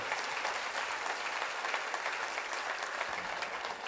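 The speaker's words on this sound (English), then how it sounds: "I really want to give her a round of applause and thank her for all her work" Audience at a talk giving a round of applause, an even, continuous patter of many hands clapping, moderately distant and steady from start to finish without speech.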